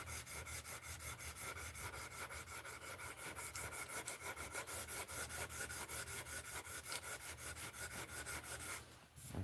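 Steady rhythmic rubbing strokes of sanding across a surface, quick repeated back-and-forth passes, soft and close, continuing evenly until a brief pause near the end.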